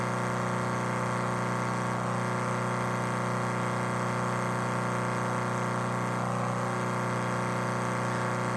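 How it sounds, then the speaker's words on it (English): A Chevy fuel pump runs continuously with a steady, faint, even hum and no change in rhythm, heard alone with no voices. "The fuel pump has like this has got a continuous pump-like action."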